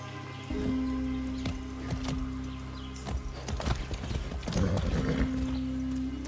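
Hooves of a ridden horse in Far Cry 6 clop at a brisk gait, close and fairly loud, over a sustained musical drone, with a short neigh mixed in.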